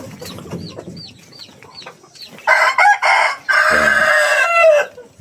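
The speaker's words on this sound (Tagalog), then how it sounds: "may nagsiyap-siyap na sisiw dyan" Chickens, including a Rhode Island breed, fill a coop with loud nearby clucking and crowing, while faint high peeps from newly hatched chicks come at the start. No one talks.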